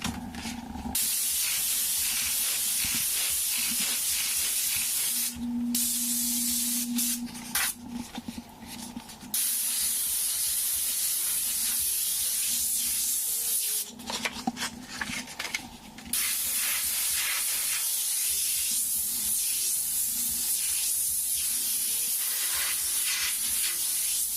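An airbrush hisses steadily while spraying paint to blend overspray into a background, a close continuous spray with brief pauses and changes in pressure.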